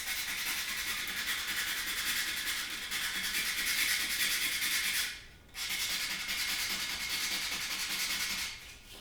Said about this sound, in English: so I'm going to give it another pass with the sandpaper